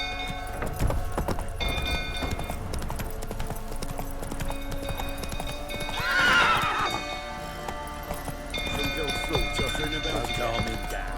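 Roach the horse in The Witcher 3 gallops with steady hoof clip-clops and gives a loud whinny midway, amid an in-game crowd scene where several voices speak over the hoofbeats.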